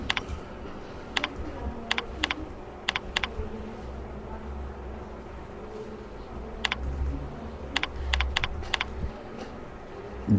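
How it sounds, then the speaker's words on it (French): Someone typing text on a computer keyboard while building a list in a document: small clusters of sharp key taps in short bursts, separated by gaps, close and clear over faint room noise, no talking. "je tape l'astérisque, j'écris les animaux"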